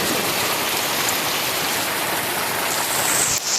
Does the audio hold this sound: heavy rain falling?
yes